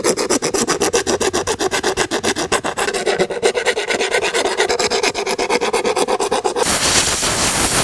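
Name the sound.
file smoothing cut acrylic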